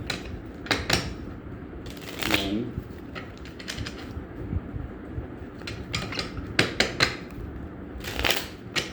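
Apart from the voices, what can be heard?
shuffling tarot cards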